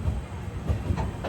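A train running along the line from Kasaragod toward Mangaluru Junction and on to Mangaluru Central, with a steady low rumble and faint rhythmic wheel clacks, heard close and continuous.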